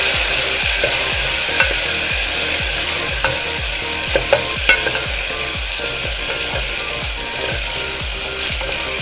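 Tomatoes fry in hot oil with a pinch of asafoetida while a utensil stirs them in a pan, a steady scraping rhythm about twice a second over a continuous close sizzle, no talking.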